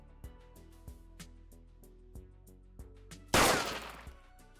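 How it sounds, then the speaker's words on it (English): Gunshot sound effect played on a livestream: a faint, evenly spaced series of soft thuds over a low hum, then one louder, broader blast near the end. "Sorry, the only scream sound effect was gunshot."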